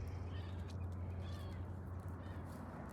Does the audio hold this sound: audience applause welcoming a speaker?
no